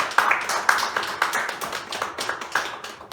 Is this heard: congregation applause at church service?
yes